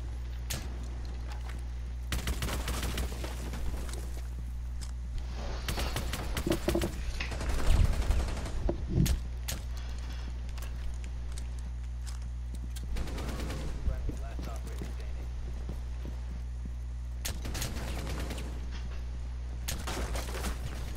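Gunfire from a video game, bursts of shots crackling in clusters over a steady low hum, with one louder sharper volley near the middle and speech-like sounds mixed in.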